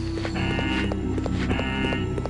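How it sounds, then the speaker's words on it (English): An alarm blares in Resident Evil: Code Veronica X, a repeating electronic tone that cycles steadily alongside in-game clattering footsteps, loud and continuous with no speech. "the alarm is still blaring"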